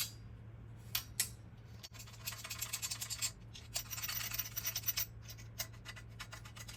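A trumpet valve cap being screwed back on after oiling: a quiet run of small metallic scrapes and clicks, close up, with a faint steady hum underneath.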